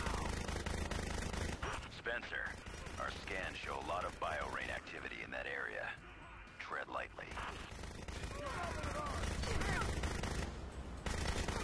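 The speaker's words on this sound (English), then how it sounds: "Okay, it's a machine gun." Machine gun fire in Bionic Commando, dense rapid bursts running nearly throughout and loud, with a voice talking over the middle stretch.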